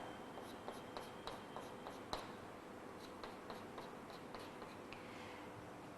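A marker draws on a board during a biology lesson on cell division, sketching a centriole with its fibers: faint squeaky strokes and light taps recur through a steady hiss, with no voice.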